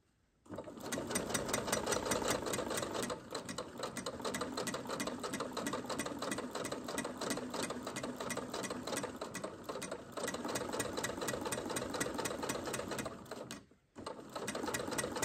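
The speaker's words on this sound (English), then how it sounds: "So I'm just gonna start sewing it like that." A home sewing machine stitches fabric for shirring, its rapid needle chatter running steadily and close for over ten seconds, pausing briefly near the end before resuming.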